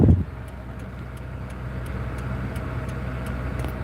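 Ferrari on a road in Naples, heard as a steady engine drone and tyre rumble of traffic from close behind, with a brief louder thump at the start and no voices.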